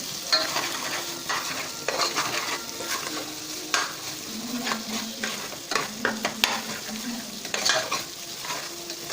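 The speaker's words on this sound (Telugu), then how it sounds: "ఈ అల్లం వెల్లుల్లి పేస్ట్ పచ్చివాసన పోయే వరకు బాగా వేయించుకుంటేనే బెస్ట్ అండి" Ginger garlic paste fries in a pan for chicken dum biryani, a steady close sizzle broken by repeated scraping stirs and light clinks of a spoon against metal, with no voices.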